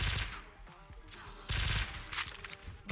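Gunfire from a gun in a Minecraft-style zombies game, bursts of rapid shots coming in clustered volleys with short gaps between them, loud and close.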